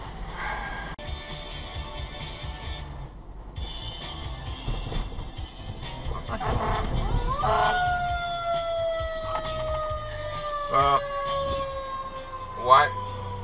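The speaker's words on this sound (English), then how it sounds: "have your sirens on so I can hear you too." Emergency vehicle siren on a road in the Boston or New England area, wailing tones that rise in the second half over rumbling traffic and engine noise, growing louder and closer toward the end.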